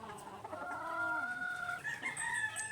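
Gamefowl hen clucking and calling nearby in a quiet barnyard, a series of warbling, rising notes, with a rooster-like crow note toward the end.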